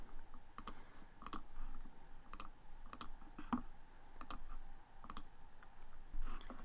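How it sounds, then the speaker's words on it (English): Mouse clicks opening the top three search results on a computer, sounding as about eight sharp, separate clicks spread irregularly over a quiet room hum, with no talking. "I'm going to click on the top 3 results."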